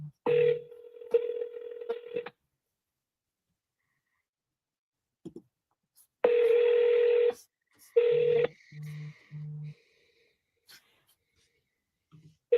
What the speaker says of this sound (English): All right, let me call this guy.